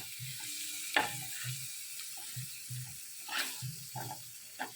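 Tilapia pieces frying village-style in very little oil, a soft low sizzle under repeated light scrapes and taps of a spatula turning the fish, fairly quiet and close.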